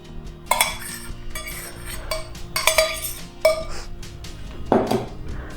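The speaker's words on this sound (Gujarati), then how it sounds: "આ જ્યુસને આપણે કોફી સાથે મિક્સ કરી લઈશું." A spoon stirs grape juice into coffee in a bowl, with sharp clinks and scraping against the dish in irregular bursts, close and fairly quiet, with no talking.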